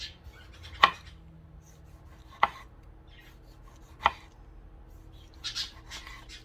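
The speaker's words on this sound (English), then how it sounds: "we're gonna cut a few more slices and alternate the colors" A knife slicing heirloom tomatoes on a cutting board for a cheese polenta tart: three crisp, separate cuts spaced over a second apart, close and clear in a quiet kitchen, with no talking.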